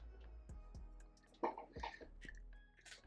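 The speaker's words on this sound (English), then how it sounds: "Sorry about the coughing." A few quiet coughs and throat-clearing sounds, close and soft, scattered across a short stretch with brief pauses between them.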